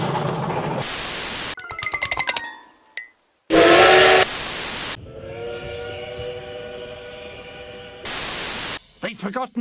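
Whistle of a JNR C61/C62 steam locomotive: several sustained harmonic blasts of varying length, loud and close, separated by bursts of static noise and short clicking passages.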